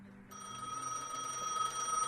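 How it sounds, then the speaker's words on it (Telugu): Telephone in the Gas Station Simulator video game rings with a high, trilling electronic bell that starts abruptly and continues steadily, fairly quiet against faint background hum. "ఏదో ఫోన్ వచ్చిందంట గైస్."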